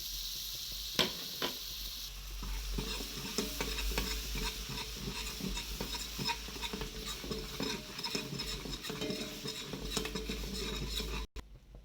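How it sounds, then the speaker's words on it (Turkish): A spoon stirs onion and flour with butter in a pot for red lentil soup: steady, close scraping and light clatter against the metal with a soft sizzle underneath, continuing for the whole stretch before stopping abruptly at the end. "Bir kaşık unumuzu koyuyoruz ve güzelce karıştırıyoruz."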